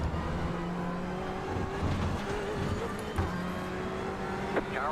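A race car engine in the iRacing sim-racing game drones loudly and steadily, its pitch rising and falling through gear changes, with another car briefly passing close by.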